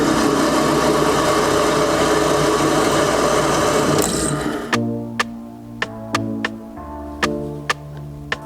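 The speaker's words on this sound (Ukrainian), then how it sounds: "Сверло 4 мм метал 10 мм товщини." A GTM ZJW4116 variable-speed drill press driving a 4 mm bit through 10 mm thick metal whirs loudly and steadily for about four seconds, then stops, leaving a series of sharp ticking clicks as it winds down.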